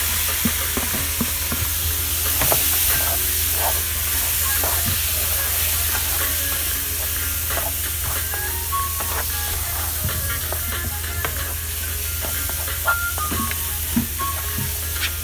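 Oxtail sizzles as it goes into a pot of hot curry for oxtail stew, a steady frying hiss with scattered spits, crackles and stirring clacks throughout, close and moderately loud, no voices.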